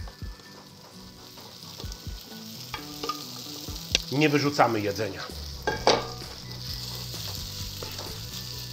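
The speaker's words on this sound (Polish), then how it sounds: "I wrzucam ziemniaki, które zostały mi od wczoraj. Po prostu sobie je podsmażam." Leftover potatoes fry in butter in a pan, a steady close sizzle broken by stirring clatter and scraping bursts midway, with a brief spoken remark.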